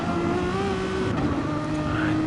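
Renault Megane Trophy race car engine in Gran Turismo at Dragon Trail Seaside, a loud steady high-revving drone with a shifting pitch, close and continuous, with other cars mixed in.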